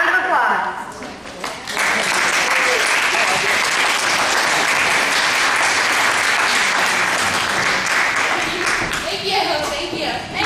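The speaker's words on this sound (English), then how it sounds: "Let's give them a round of applause." Audience applause after a 2011 high school play, swelling quickly into loud, sustained clapping that holds steady for several seconds before easing, with brief voices at the start and end.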